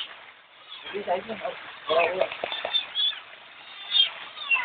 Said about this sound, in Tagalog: Ito po ang pusa